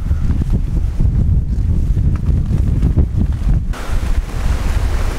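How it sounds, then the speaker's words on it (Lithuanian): Strong wind buffets a tent camp pitched on a riverside, roaring in uneven gusts right against the microphone with rumbling low-end bursts and no talking. "Nešioja čia vėjukas, ką tik gali."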